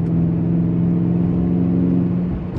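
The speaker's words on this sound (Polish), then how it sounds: "Akurat się rozgrzeje i posłuchacie sobie też wydechu." A BMW M5 F90 engine and exhaust hold a steady, loud revving drone up close, continuous for the whole stretch with a strong low hum and no talk.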